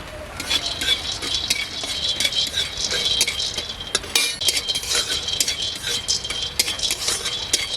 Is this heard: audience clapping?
no